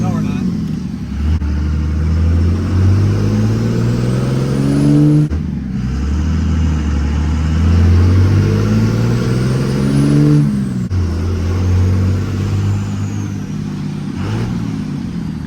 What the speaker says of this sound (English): to do a burnout for the first time.